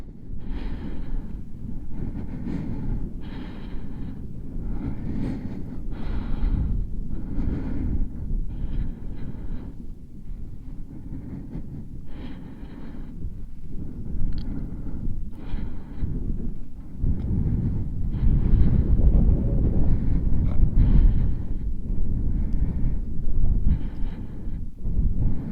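Strong wind buffets the microphone near the Aigoual observatory in the mountains, a constant loud low roar with gusts that swell and ease across the whole stretch, with no voices over it.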